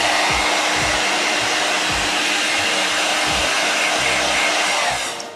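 A hair dryer blows hot air over fresh paint on customized Jordan 1 sneakers. Its loud, steady, close-up roar runs without a break and dips slightly only at the very end.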